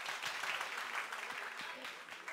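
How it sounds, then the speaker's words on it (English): A congregation at a Sunday Assembly gathering in Los Angeles claps many times on request, a fairly quiet, steady patter of clapping with a few louder claps and faint voices mixed in. "If you can hear me, clap a bunch of times"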